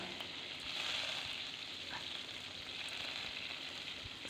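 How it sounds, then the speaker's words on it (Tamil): Onion, tomato and curry leaves sautéing in oil with fenugreek for a fish curry, a dense continuous sizzle and crackle that stays even and fairly close throughout. "இது கூடவே நம்ம கட் பண்ணி வச்சுருக்க வெங்காயம், தக்காளி, கருவேப்பிலை இது எல்லாமே சேர்த்து நல்லா வதக்கிக்கணும்."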